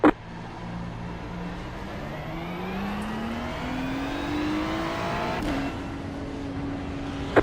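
Race cars in a Nürburgring endurance racing video game, an engine whining steadily upward through the gears with brief shift drops, loud and continuous, and no speech.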